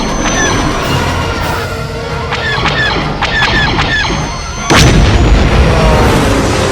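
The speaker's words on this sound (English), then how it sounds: "Go take care of them, Timmy. Go on the auto turrets." Auto turrets fire at enemy fighters in a Star Wars video game, rapid bursts of blaster shots with squealing electronic tones over a dense rumbling battle, ending in a louder crash.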